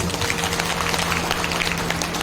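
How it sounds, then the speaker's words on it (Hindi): An audience at a Bhagavat Katha applauds loudly, a steady wash of clapping hands close by with a low hum underneath, continuous throughout without pause. "जो जोरदार तालियां बजाते हैं"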